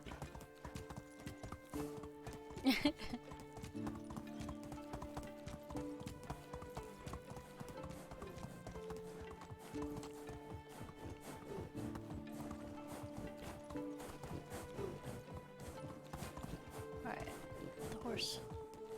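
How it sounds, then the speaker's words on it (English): Horse hooves clip-clopping at a steady gallop in the medieval survival game Medieval Dynasty, a continuous rhythmic beat with occasional whinnies over quiet game music and someone talking. "That was actually a pretty good horse run."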